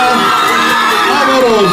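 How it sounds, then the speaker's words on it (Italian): An excited crowd at a record-signing event inside the Auchan Santa Gilla mall in Cagliari shouts and cheers loudly for a singer, a brief, dense burst of high voices. "salutiamola con un grosso applauso"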